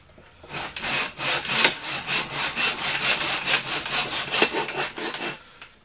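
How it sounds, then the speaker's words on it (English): A hand saw cuts through a piece of wood for a homemade coat rack, about a dozen steady back-and-forth rasping strokes, close and loud, with no talking. "And saw that off."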